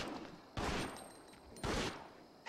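Gunfire from Biohazard Outbreak File 2 on PS2 aimed at a lioness, two separate loud bursts about a second apart, each a short rattling volley against a quiet backdrop.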